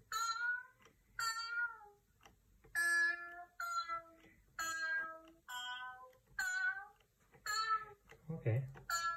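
Synthesized cat meows made on a Hydrasynth synthesizer, a series of about eight harmonic meow-like tones in a steady rhythm, fairly close and moderately loud, with a brief low thump near the end.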